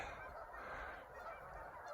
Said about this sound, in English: you can see the geese all along that shoreline there